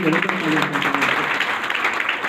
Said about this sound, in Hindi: मैं आप सबके शानदार तालियां चाहता हूँ अभय मिश्रा सर के लिए